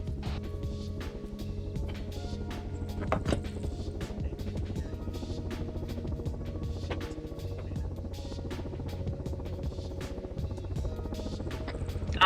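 A video game helicopter's rotor thumps in a steady, rapid chop at moderate distance, fairly quiet, with faint voices talking over it and a brief louder burst partway through.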